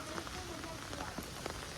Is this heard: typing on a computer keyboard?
no